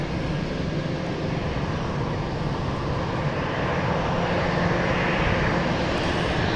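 Boeing 737 Max 8 airliner taking the runway at Milwaukee Mitchell International Airport, heard as a steady, broad jet engine roar at moderate distance that holds level throughout without talk.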